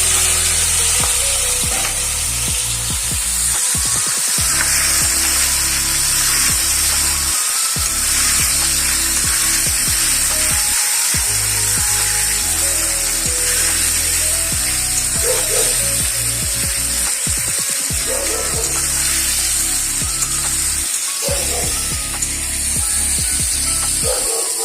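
Chicken meat and dry cumin fry in hot oil in a home kitchen, giving a steady bright sizzle. A deep droning rumble runs underneath and repeatedly cuts out and returns. No voices are heard.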